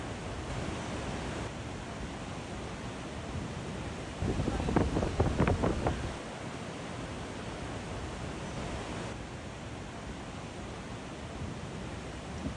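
Waterfall cascading down a series of rock steps at Marleshwar in the Sahyadri hills, a steady broadband rush of falling water throughout, swelling briefly louder in the middle.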